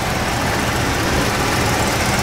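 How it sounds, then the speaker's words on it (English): AC compressor running on a 1973 Cadillac Eldorado convertible with its 8.2-liter V8, a steady close mechanical whir and hum with no change in rhythm. "There's the AC compressor."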